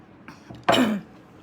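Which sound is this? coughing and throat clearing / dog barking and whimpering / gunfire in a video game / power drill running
coughing and throat clearing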